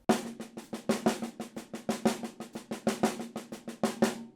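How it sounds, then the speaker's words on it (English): A quick, even six-stroke roll on a snare, about twenty sharp hits in four seconds, played alone with a steady pulse. "This is actually just a straight up 6-stroke roll."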